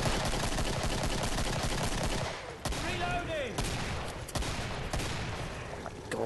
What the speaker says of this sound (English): I'm just shooting off into the trees